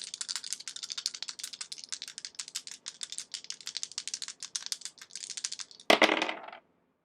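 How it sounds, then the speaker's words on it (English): Dice rattle during an astrology reading, with several seconds of rapid, dense clicking followed by one louder, brief clattering throw, close and without voices. "And we are going to throw the dice."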